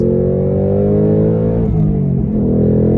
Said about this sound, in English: For stock exhaust, this thing sounds phenomenally good. I mean, it has a really nice deep tone to it,